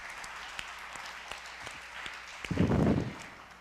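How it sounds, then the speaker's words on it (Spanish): A conference audience gives fairly faint applause for the camera crew, steady light clapping in a hall with a brief louder thump near the end. "un aplauso para los que están detrás de cámaras y nos invitan"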